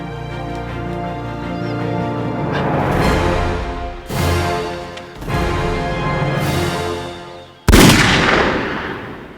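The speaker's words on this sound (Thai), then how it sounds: "เสียงปืนมาจากไหนวะ" Gunfire in a drama scene near a coconut grove and village: several sharp, loud bursts of shots with ringing tails, separated by brief gaps, the last blast the strongest.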